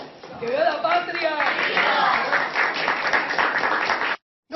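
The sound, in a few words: applause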